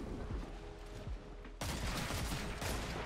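Gunfire in the video game Destiny 2: a rapid fusillade of weapon shots, with a burst of dense, loud firing in the second half.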